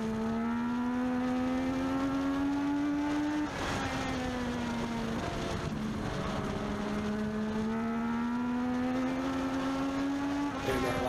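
A Legends race car runs qualifying laps at Meridian Speedway, its engine holding a loud, steady high whine that dips briefly as it lifts into the turns and then climbs again, heard continuously from on board.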